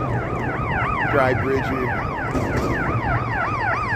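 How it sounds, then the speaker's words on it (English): Ambulance siren wailing in a steady rising and falling sweep as it moves along a busy Chicago street near Columbus Drive, loud and fairly close, with traffic noise underneath and someone speaking briefly. "Here comes an ambulance."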